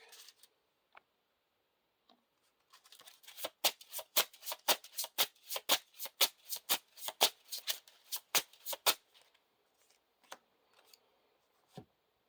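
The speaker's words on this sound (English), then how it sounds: "we have to shuffle the deck" A deck of cards riffled in a rapid burst of crisp, fluttering clicks, then a few scattered taps as the cards settle, close and alone.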